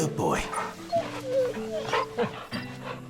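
A dog in the video game Final Fantasy XVI gives several short barks and whimpering yips close by, spaced irregularly across a few seconds over soft game ambience.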